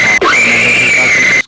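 A woman screams loudly in an animated horror story, one sustained shrill cry of about a second, close and piercing, cut off abruptly.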